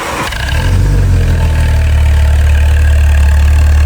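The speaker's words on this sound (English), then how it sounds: "This is how the car is starting, guys." A lowered 2015 VW Polo 1.2 TSI engine catches with a quick rising burst, then settles into a loud, steady idle rumble that continues without a break.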